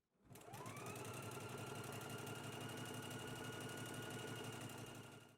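A sewing machine runs continuously at a steady fast stitching rate while sewing a sleeve for a wrap dress, its even mechanical whir holding for several seconds alone before slowing at the end.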